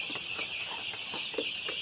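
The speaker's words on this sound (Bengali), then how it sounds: "এই যে কাদাকনাথ মুরগি।" Kadaknath chickens cluck close by, with several short, separate clucks spread over a steady bright background chatter from the flock.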